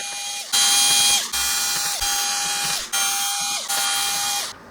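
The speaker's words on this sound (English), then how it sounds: "I'm just going to undo all these screws now." A ratchet undoing screws on a Revox reel-to-reel tape recorder, loud close rapid clicking in four or five sustained bursts, each briefly pausing as the handle swings back.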